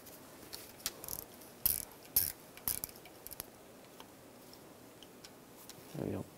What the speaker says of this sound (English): Using an 8 millimeter socket, we're gonna take this screw out.